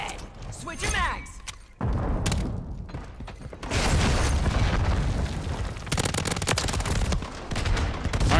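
Rocket blasts and rapid gunfire from Call of Duty Modern Warfare III multiplayer, with an SMG among the weapons: loud, dense bursts of shots and heavy booming explosions, a brief lull near two seconds, then sustained chaotic firing, with players talking over it.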